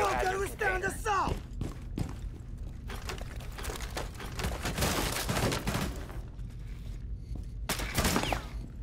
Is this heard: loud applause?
no